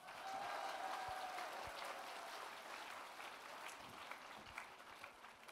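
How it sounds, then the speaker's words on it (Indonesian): Audience applause at a corporate presentation, a steady, fairly faint round of clapping from a crowd that holds through the whole stretch and slowly tapers, with a few louder individual claps near the end. "kalau misalnya benar bapak ibu tepuk tangan yang keras"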